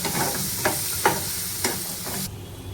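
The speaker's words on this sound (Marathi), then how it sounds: "आपण सर्व मसाले अर्धा मिनिट तेलात छान असं परतून घ्यायचा आहे" Spices including chilli powder, homemade masala and coriander powder sautéing in oil in a kadai for paneer veg kurma, a close steady sizzle with a few sharp stirring scrapes, no voices.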